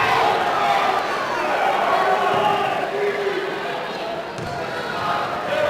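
Packed gym crowd at a Fitchburg at Leominster high school boys basketball game, a loud continuous roar of voices and cheering throughout, with a faint sharp knock near the end.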